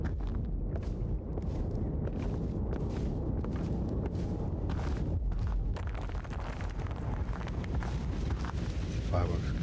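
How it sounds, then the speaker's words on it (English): Fireworks in the adventure game Eclipsium, a series of rumbling booms and crackling bursts over a low, windy bed of sound, continuing throughout and growing denser in the second half. "Fireworks going off over there."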